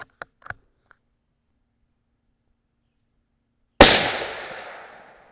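One sharp, loud gunshot from a T/C Compass 6.5 Creedmoor rifle firing S&B full metal jacket ammo cracks out after a few faint clicks and a stretch of silence, then rings out in a long decaying echo.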